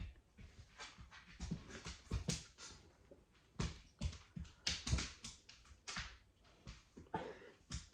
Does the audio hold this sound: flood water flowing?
no